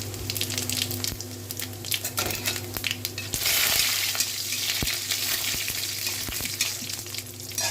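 Mustard seeds, chana dal and cumin fry in hot oil in a pan, giving a steady close sizzle broken by sharp popping crackles and stirring scrapes, with no talk.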